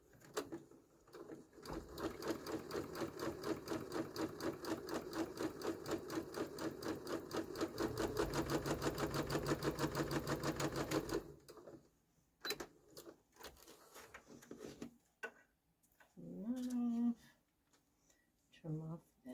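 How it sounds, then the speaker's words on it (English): A sewing machine stitches fabric pinned to freezer paper for foundation paper piecing, running in a fast, steady rhythmic burst of needle strokes that speeds up briefly before stopping, followed by a few quiet handling clicks and bumps. "So I'm going to go over here to my sewing machine."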